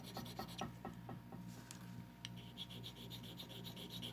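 A metal ring scraped during metal testing, producing a series of quick rasping strokes in an irregular rhythm, close and quiet, followed by faint rubbing under a steady low background hum.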